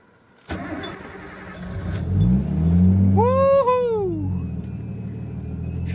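Nissan R32 Skyline with an RB20 engine cranking and catching, then roaring into loud revs that rise and fall before settling into a rough idle, close up outdoors in a backyard.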